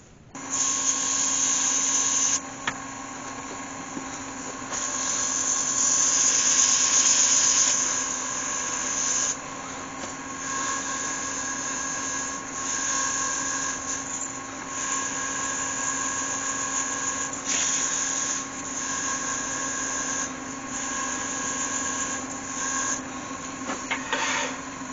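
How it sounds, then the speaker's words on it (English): Steady whine of a wood lathe turning a beech snowman while it is sanded through the grits, a continuous machine hum with sandpaper hiss that swells and eases throughout, close and moderately loud, no talking. "I'll just carry on, work my way through the grits and sand that all right down"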